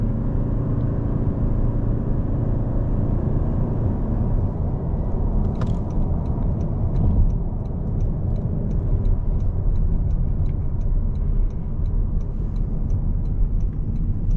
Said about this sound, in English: Let's see how this car makes a U-turn.